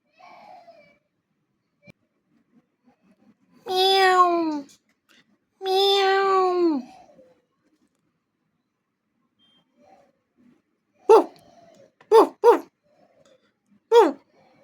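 A cat lets out two long, drawn-out meows, then after a pause a dog fires off four short, sharp barks while chasing it; quiet otherwise.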